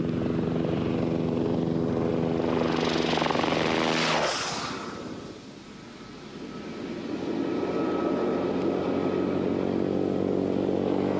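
Rally motorcycles roar past close by, swelling to a peak and then fading away as they move off, with a steady engine drone continuing in the background, during a rally raid stage in Tunisia.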